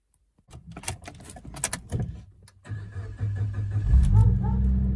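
A small car's engine cranks and catches after some jingling and handling noises, then settles into a steady low idle that grows louder toward the end, close to the microphone.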